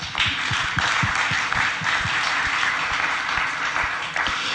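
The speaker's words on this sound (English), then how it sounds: "So maybe just a quick round of applause to thank them for putting this event on for us." Conference audience gives a quick round of applause, dense steady clapping from a crowd throughout.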